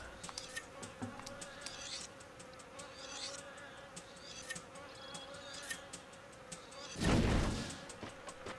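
Game insects buzz in Man vs. Wild with Bear Grylls on Wii, a steady thin drone running through the whole stretch, with a louder, broader burst of noise swelling near the end.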